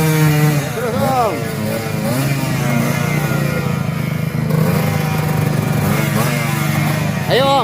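A motorcycle engine revs hard at full throttle while the bike is stuck in mud on a mountain trail, its loud, rising and falling whine sustained close by, with people shouting over it.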